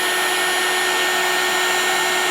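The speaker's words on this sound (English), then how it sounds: "So just melting that embossing powder down" A heat tool blows a loud, steady whooshing hum up close while it melts embossing powder on a papercraft card, unbroken for the whole stretch.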